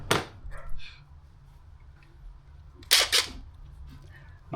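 Nuts are tightened on the bolts of a UForce 1000 rear glass panel, giving a few sharp close clicks and taps separated by quiet gaps.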